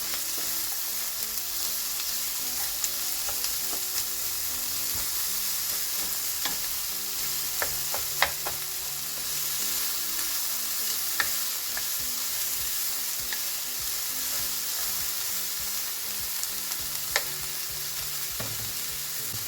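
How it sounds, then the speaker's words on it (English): Red onion and green onion sauté in a pan with a constant, even sizzle, broken now and then by a few faint clicks and scrapes of stirring; no voices. "the red onion, and the green onion as well. And get that all sauteed together."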